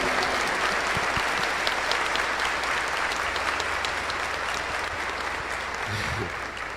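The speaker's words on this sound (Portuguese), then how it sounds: "Pode dar uma salva de palmas," A church congregation at a Sunday evening Mass applauds steadily and loudly for several seconds, a dense, even clapping that tapers slightly at the end.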